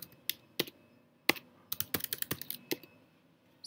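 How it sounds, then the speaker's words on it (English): Someone types on a computer keyboard in a quiet room, with a few separate key taps at first and then a quick cluster of clicks and a final press, each keystroke close and crisp. "I'm trying to enter incorrect password."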